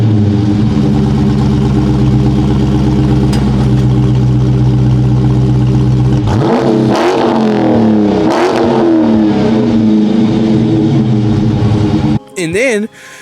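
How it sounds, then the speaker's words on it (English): Chrysler 300C engine with dual exhaust tips idling loudly up close, then revved several times in quick blips before settling, a voice briefly heard at the end. "I'm gonna give it a little rev."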